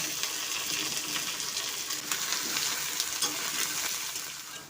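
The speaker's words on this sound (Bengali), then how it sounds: "তো আলু পেঁয়াজ সব একবারেই ভেজে নেব।" Potatoes and onions with garlic fry in hot oil for an egg curry, a continuous close hiss and sizzle with light stirring noises and no talking.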